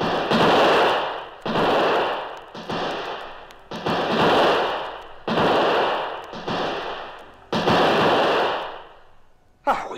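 Gunfire from a gun fired at attackers fleeing in canoes: seven loud, evenly spaced shots roughly every second and a half, each a sharp blast with a long booming decay, with no talk.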